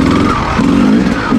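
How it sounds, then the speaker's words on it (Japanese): A Honda XR600 motorcycle engine runs loud and close, with a rough, throbbing mid-range note rising and falling in quick revs during a hill-climb trail ride. "なんかエンジンかけるのコツがあるみたいですね。"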